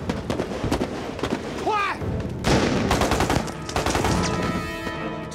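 Rapid gunfire in a Vietnamese action film, dense bursts of shots and crackling volleys that fill the scene loudly, with shouting voices and a brief whistling streak mixed into the chaos.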